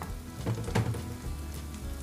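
Chopped green chili peppers sizzle and crackle in a hot pot with a steady frying hiss and occasional stirring scrapes.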